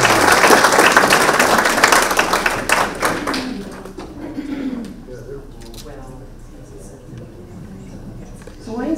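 A forum audience gives a guest speaker a round of applause, a loud burst of many hands clapping for a few seconds that fades out, followed by someone talking.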